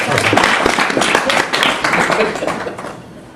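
A comedy club audience claps to vote in a painting-or-photo game. A burst of loud, dense applause with voices mixed in fades off toward the end.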